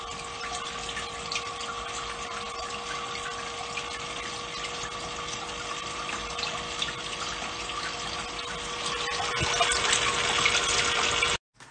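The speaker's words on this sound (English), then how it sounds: "The 350 gallon per hour pump did not generate enough pressure to move the water through the system" A steady mechanical hum of a 350 gallon per hour water pump pushing water through aeroponics pipes runs throughout with a constant whir and faint rushing water, growing slightly louder near the end before stopping abruptly.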